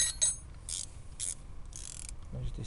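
Ratchet wrench tightening the front shock absorber bolts on a car, a quick run of clicking pawl bursts with short pauses between strokes, close and fairly quiet.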